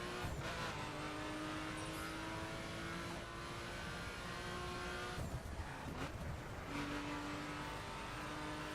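A RUF sports car in the driving game The Crew, its engine droning and shifting pitch steadily with a few sharp knocks and scrapes of impact in the middle, faint and with no talk.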